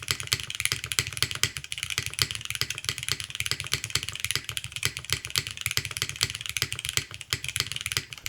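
Rapid, steady clacking of keys on a Finn 60XT mechanical keyboard, close and clear with an even typing rhythm and no talking.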